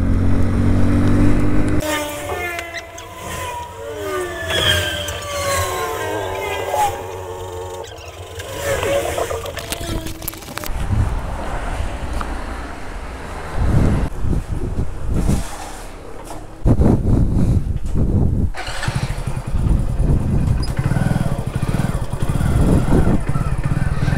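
A motorcycle engine runs continuously after repair work, a loud, steady rumble that shifts in tone and intensity over about twenty seconds, with rough background noise mixed in.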